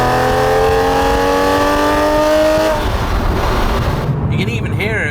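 A 400 BHP Manthey Racing Porsche 911 996 GT3 Clubsport climbs toward redline, its engine note rising steadily and loud before easing off as a voice talks over it.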